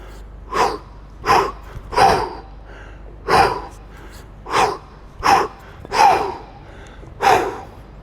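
Eight sharp, forceful exhales during kettlebell cleans in a steady rhythm, each a breathy burst about a second apart, close and loud with quiet between them.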